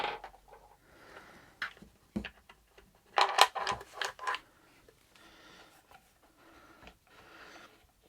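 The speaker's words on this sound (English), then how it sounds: "So the next thing we need to do is take the stock adjust off. Simply unscrew that." The stock adjuster on a Cyma CM.098 AR10 airsoft replica rifle is unscrewed by hand, heard as faint close ticks and small plastic and metal clicks, with a brief cluster of rattling turns midway.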